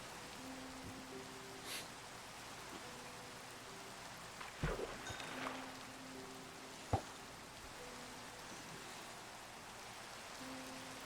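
Steady, soft rain hiss from Minecraft weather, quiet and even throughout, with a few faint tonal notes and occasional small clicks over it.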